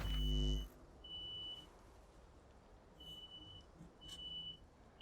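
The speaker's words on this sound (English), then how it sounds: "All the fire alarms going off." Fire alarms sound in a video game, faint high-pitched electronic beeps recurring in separate short bursts over a quiet low background, after a brief loud low thump at the start.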